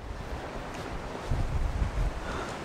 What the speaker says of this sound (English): It's really windy here. I hope the microphone's not picking up too much of it.